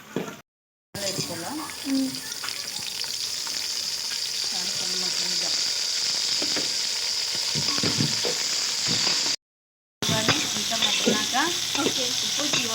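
Eggplant curry fries in a pan, making a steady, close sizzle with scraping and stirring strokes that runs for over ten seconds, broken by two brief silent gaps.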